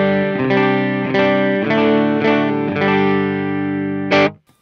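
A Reverend Gil Parris electric guitar on its clean tone in the middle single-coil pickup position, with the bass contour knob fully up, plays several sustained chords in an even rhythm, then a final short strum, close and clear.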